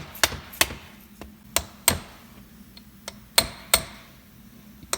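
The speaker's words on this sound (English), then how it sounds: "just tap it back over the splines." A hammer taps a CV axle joint back over its splines on an Audi axle rebuild. There are about nine sharp metallic knocks at uneven intervals, close and clear, over a low background hum.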